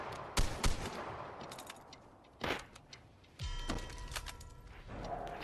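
Pistol gunshots in the video game Vigor: a couple of sharp cracks, then a loud shot around mid-clip and another blast later, each followed by a brief ringing tail over a steady background hum.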